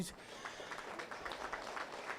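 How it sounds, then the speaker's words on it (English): Crowd clapping for a class of competitors at a 4-H market lamb show at a county fair, a faint, distant patter of applause with a voice over it. "let's give Class 9 a round of applause"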